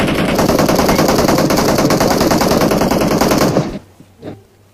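A loud, rapid burst of automatic gunfire in a video game rattles on steadily for over three seconds, then cuts off abruptly, leaving a faint thud and quiet.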